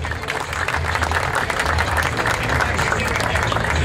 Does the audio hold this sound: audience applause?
yes